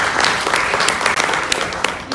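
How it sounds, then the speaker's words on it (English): An audience applauds steadily at a ministerial opening event, loud dense clapping that fills the whole clip. "You should give yourself a clap."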